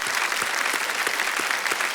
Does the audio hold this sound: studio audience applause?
yes